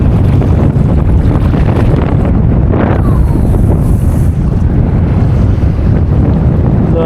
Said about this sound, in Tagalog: Kusog ng hangin guys.